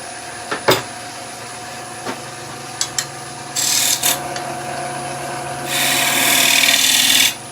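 A skew chisel cuts detail on a raised wooden bowl spinning on a lathe, heard as a steady motor hum with a few sharp scraping ticks, then longer bursts of close, bright, hissing cutting toward the end.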